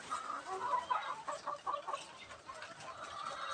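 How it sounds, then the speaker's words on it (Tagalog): A hen cackling ahead of laying eggs on a breeding farm, a run of repeated clucks rising and falling, moderately near but fairly quiet against background noise. "Pero ngayong araw na to agaw ay kumakakak na po ito. Sinyalis na malapit na po itong mangitlog."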